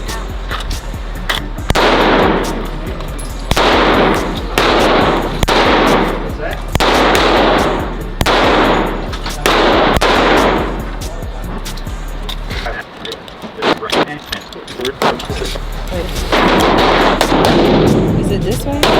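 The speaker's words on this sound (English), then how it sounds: "I'm shooting that shit." Gunshots at a shooting range: a series of loud, sharp blasts fire in irregular bursts across the clip, with voices talking in between.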